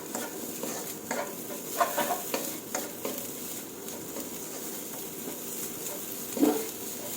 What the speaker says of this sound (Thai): คั่วให้มันหอมค่ะ